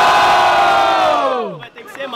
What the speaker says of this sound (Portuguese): Barulhos, barulhos pra quem gostou das rimas do JP